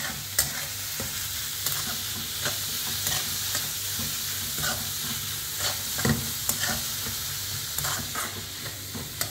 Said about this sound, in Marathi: कांदा चांगला लालसर करून घ्यायचा